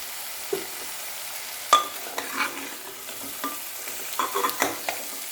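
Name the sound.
frying with turmeric and salt in a pan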